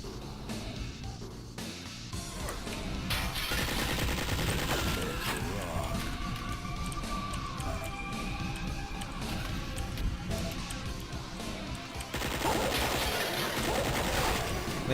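Rapid, continuous gunfire in Duke Nukem 64 during a firefight with chain gunners and battle lords, dense bursts and booms running throughout under a busy game mix, growing louder near the end.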